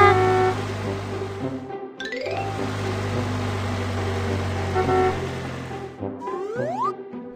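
A cartoon delivery truck's engine hums steadily, then a rising horn-like toot sounds twice near the end as the vehicle pulls away, all loud and close without speech.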